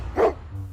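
A stray dog gives a single short bark near the state legislature building in Nagpur during the winter session, a brief loud burst over a low steady background hum.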